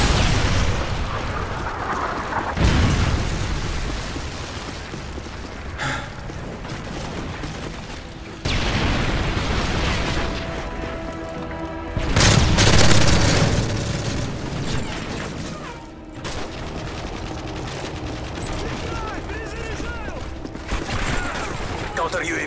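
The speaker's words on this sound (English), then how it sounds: "Predator missile inbound." Heavy explosions and gunfire in Call of Duty Modern Warfare 3 multiplayer, including a Predator missile strike, with loud booms that keep recurring over a steady rumble of battle.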